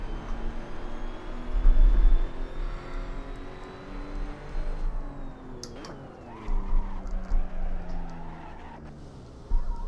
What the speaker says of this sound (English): You're locking your left front, braking for the corkscrew.